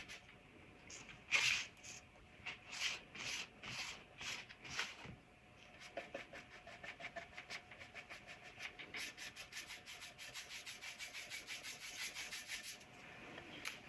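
A rag rubbing stain into cut cedar wood makes soft, rhythmic scrubbing strokes, close and quiet. The strokes start slow, then turn quicker and more even.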